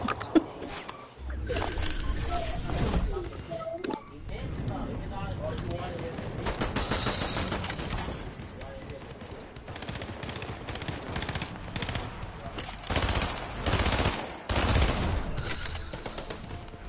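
Fortnite gunfire crackles in repeated bursts, with rapid machine-gun volleys and single shots coming and going at close range while a person talks over the shooting.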